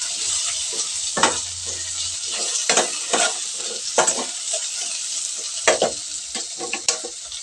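Pagpag, scavenged food scraps, frying and being stirred in a pan, with a steady hiss and sizzle broken by repeated scraping strokes of a utensil against the pan, close and fairly loud with no talking.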